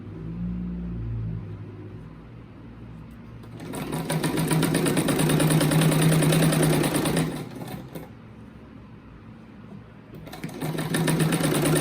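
A domestic sewing machine stitching fabric for a rabbit-shaped placemat, running in two loud sustained bursts of steady whirring separated by a brief pause, preceded by quieter low handling sounds.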